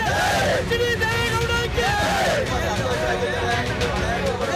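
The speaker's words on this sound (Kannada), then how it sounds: "ರೇವಣ್ಣಗೆ ಜಾಮೀನು ಸಿಕ್ತಿದ್ದಂತೆ ಪರಪ್ಪನ ಅಗ್ರಹಾರದ ಎದುರು ಅಭಿಮಾನಿಗಳು ಸಂಭ್ರಮಿಸಿದ್ದಾರೆ" Crowd of fans cheering and shouting together outside Parappana Agrahara prison, celebrating Revanna's bail; dense, continuous babble with raised, chant-like voices throughout.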